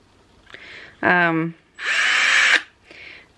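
Electric drill fitted with a new sanding head, used to sand a steamer trunk around its rivets, whirring in two short bursts, near and loud, between brief spoken words.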